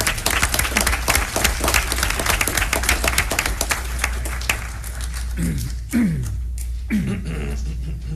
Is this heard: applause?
yes